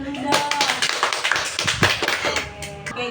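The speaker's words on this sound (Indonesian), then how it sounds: "Kasih tepuk tangan dulu dong." A group of students applauding a classmate in a classroom, a burst of brisk, uneven clapping from several hands close by, with voices mixed in.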